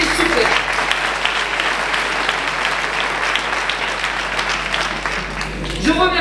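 Sustained applause from an audience at a town's 2025 New Year's wishes ceremony, dense steady clapping filling the room for several seconds, with a few voices mixed in.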